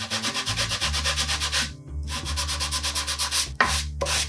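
Sandpaper rubbed by hand over a small wooden speaker cabinet panel gives rapid, rhythmic back-and-forth scratching strokes, close and steady, pausing briefly twice before resuming.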